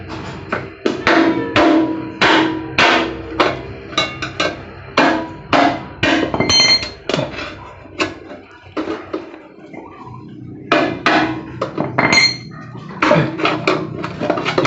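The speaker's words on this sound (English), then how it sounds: "we'll beat it straight with a hammer" A hammer beats a motorcycle exhaust plate straight on a 600 cc exhaust rebuild: sharp metallic strikes close up, in rapid bursts of repeated blows with short pauses between runs.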